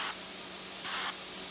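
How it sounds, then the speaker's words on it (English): Canola oil cooking spray hisses onto garlic bread in two short bursts, a soft airy spritz near the start and a longer one in the middle, over a faint steady background. "a little spray of canola oil"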